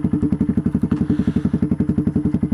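Loud, close motorcycle exhaust blatting through hollowed-out Scorpion mufflers, a rapid, even train of heavy thumping pulses at a steady idle.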